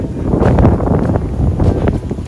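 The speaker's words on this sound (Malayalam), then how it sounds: "നല്ലൊരു കാറ്റുണ്ട്" Strong wind on a beach near Uluwatu Temple, Bali, buffets the microphone in a continuous low rumble, rising and falling slightly.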